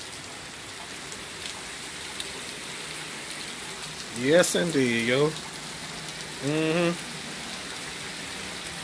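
Hard rain patters down on a stormy day, a steady, close hiss of drops, broken by a few brief spoken words.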